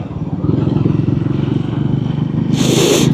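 Triumph Scrambler 400X motorcycle carrying a rider and pillion passenger on a Staffordshire road, a steady close engine thrum with pulsing exhaust and wind noise, brightening into a harsher rush near the end.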